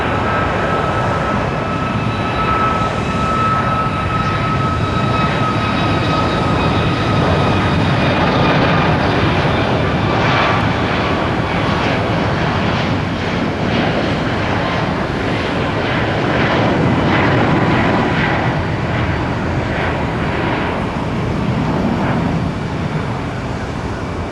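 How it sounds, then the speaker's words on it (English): A medevac jet takes off from runway 19 left at Tampa International Airport, its engine roar loud and steady across the whole stretch, with a faint whine on top and no talk. "Tower cleared a medevac jet off of 19 left."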